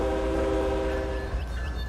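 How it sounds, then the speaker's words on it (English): A simulated train in the Trainz Railroad Simulator 2019 game pulls away with a steady horn tone over a rumbling rail background. The horn fades partway through as the low rumble continues, and no one talks. "I want this train to go to West Crawford."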